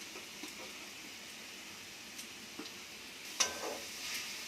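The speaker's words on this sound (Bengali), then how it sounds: "দিয়ে এবার গ্যাস স্লো করে আস্তে আস্তে আমি ভাজবো" Grated carrots fry slowly over low gas in a pan for gajar ka halwa, making a soft continuous sizzle with occasional stirring scrapes and light clinks.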